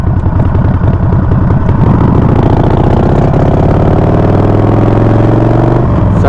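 A Harley Sportster motorcycle engine roars up close while the rider shifts gears, a loud, steady rumble whose pitch rises and drops with the shift.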